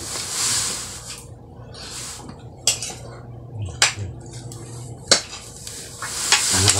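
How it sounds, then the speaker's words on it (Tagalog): A metal spoon scoops cooked rice from a deep pot, giving several scraping clinks and soft scoops at an irregular pace, close and fairly clear, with no talk. "Pangalawang salok ng kanin."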